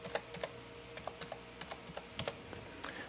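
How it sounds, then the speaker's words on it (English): Rapid keystrokes on a computer keyboard while a title is typed, a steady run of light, close clicks with short irregular pauses, alone with no talking. "now I can begin typing my title"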